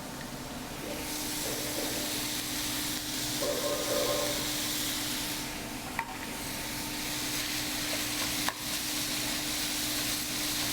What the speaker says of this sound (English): I'm gonna add the onion now.